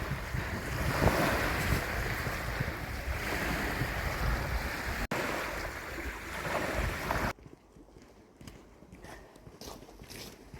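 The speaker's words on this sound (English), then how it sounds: "there is actually little waves" Small waves lapping on the Loch Lomond shore under heavy wind buffeting the microphone, a dense steady wash that drops abruptly to a quieter, softer lapping near the end.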